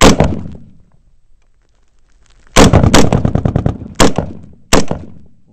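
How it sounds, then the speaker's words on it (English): Gunfire during a firefight with the Taliban: one sharp shot that rings out and fades, then after a pause a rapid burst of loud close rounds followed by two more separate single shots. "Keep shooting at it."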